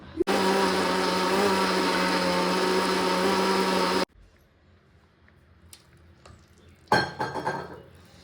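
A mixer grinder whirs loudly as it grinds soaked rice, a steady high-pitched motor roar for about four seconds that cuts off abruptly, followed by quiet handling and a brief burst of clattering near the end.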